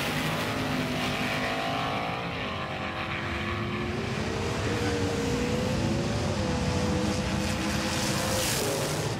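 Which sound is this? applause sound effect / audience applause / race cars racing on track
race cars racing on track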